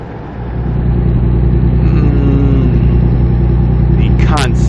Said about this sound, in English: I just want to hear the engine.